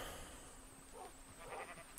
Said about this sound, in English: There you go! Completed sheep farm.